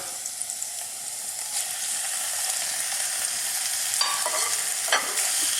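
Pork tenderloin frying in oil in a wok sizzles with a steady, even hiss throughout, and a few sharper clinks and scrapes of stirring come near the end. The sound is close and moderately quiet, with no voices.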